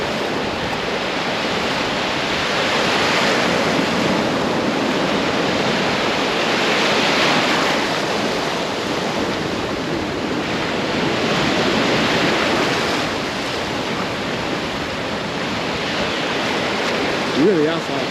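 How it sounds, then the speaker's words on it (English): Ocean waves break steadily along Isla Verde beach in San Juan, Puerto Rico, a loud continuous wash of surf with slow swells of intensity and some wind rumble against the microphone. "That's why these waves are hitting like that"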